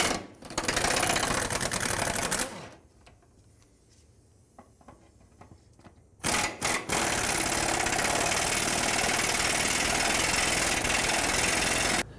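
Loud power tool, likely an impact wrench, removing 14mm carrier bearing bolts on the driveshaft of a 2001-2007 Toyota Highlander, running about two seconds, pausing for a quieter stretch, then running again steadily for nearly six seconds.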